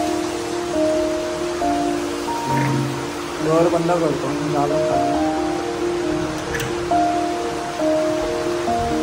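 Heavy rain pours down steadily in Konkan, Maharashtra, a dense, even hiss that runs throughout while someone speaks nearby and a door shuts partway through.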